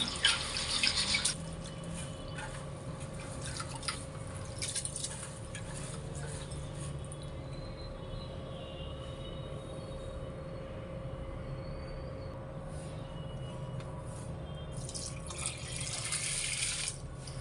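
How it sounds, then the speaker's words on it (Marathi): Lentils, rice and poha being washed in water, a steady running-water wash with a brief louder splash at the start and a low constant hum underneath, with no talk. "हे दोन तीन पाण्याने स्वच्छ धुवून घ्यायचे"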